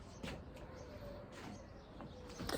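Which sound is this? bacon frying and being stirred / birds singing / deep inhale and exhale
birds singing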